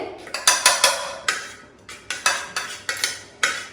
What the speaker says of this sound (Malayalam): ഇനി നമുക്ക് ബൗളിൽ മിക്സ് ചെയ്യണം